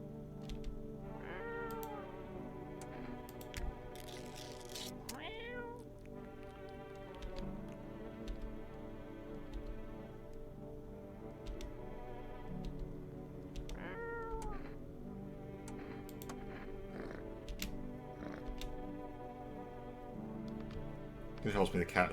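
Cat meowing in the video game No I'm Not A Human, repeated rising meows at intervals over a steady ticking and soft ambient backdrop, moderately close but quiet overall.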